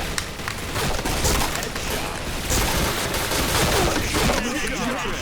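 Rapid, continuous bursts of video game gunfire, played without a silencer, fill the clip, dense and loud, with a voice speaking briefly underneath.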